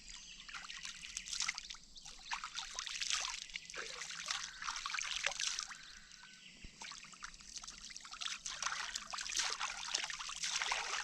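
Water trickles and splashes in an uneven, continuous patter as someone washes their face outdoors at a farm, quiet and close.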